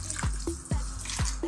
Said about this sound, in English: a little splash of cold water